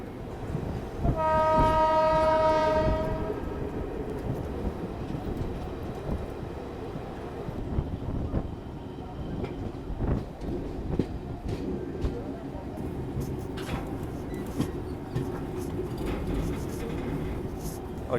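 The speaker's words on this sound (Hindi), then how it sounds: "और ये देखिए कोई तो ट्रेन जो है वो बरौनी बाईपास करके आ रही है।" An express train approaches on the Barauni bypass line near New Barauni Junction, sounding a loud sustained horn early before a long rumbling, clattering pass of wagons over the rails; the noise is close and continuous throughout.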